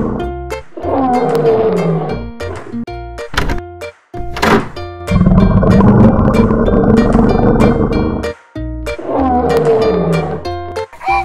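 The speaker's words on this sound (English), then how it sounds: "Lion." A lion roars in a children's wild animals learning sequence with a wooden toy train: loud, close roaring bursts in several calls, separated by short thuds and gaps, with one long sustained roar in the middle.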